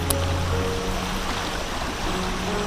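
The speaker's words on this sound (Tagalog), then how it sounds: "Ayan, ilog na yan." The Abayaoan River flows beside a motocamping spot, a steady close rush of moving water with broad, even hiss and no talking over it.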